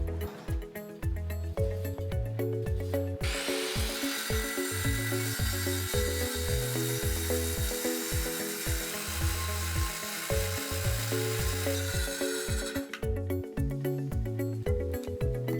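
A power saw grinds harshly through a stone veneer mantel for several seconds, a loud, rough, continuous cut over rhythmic background music.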